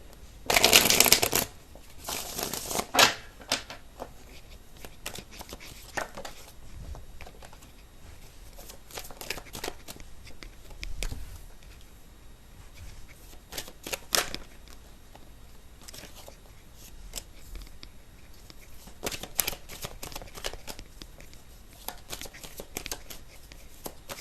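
Tarot cards are shuffled repeatedly, with a loud riffle at the start followed by ongoing soft flicking, tapping and sliding of the deck, close up.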